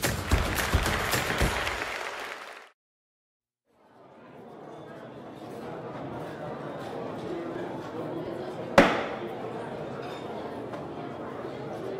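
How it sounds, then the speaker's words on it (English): Dense applause fills an art auction room after a record-setting sale, lasting about two seconds before cutting out abruptly. Quiet room ambience with a single sharp knock follows. "That deserves clapping."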